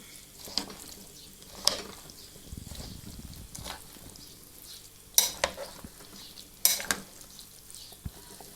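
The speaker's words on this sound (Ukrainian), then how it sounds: "Все це перемішуємо." Zucchini salad with sardines is stirred in a sizzling pan, with a spoon scraping and clinking against the metal in irregular strokes over a soft frying hiss.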